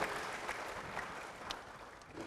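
A church congregation applauds with dense, steady clapping that fills the room at a moderate level from start to end.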